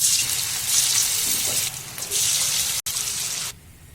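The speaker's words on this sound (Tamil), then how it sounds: "இப்ப எண்ணெய் ஒரு பக்கம் காய வச்சிருக்கோம், நல்லா காஞ்சிடுச்சு. இப்ப நம்ம காலிஃபிளவர் போட்டுக்கலாம்." Cauliflower pieces dropped into hot oil for Gobi Manchurian, giving a steady, loud crackling sizzle that runs nearly the whole time before dropping sharply in the last half second.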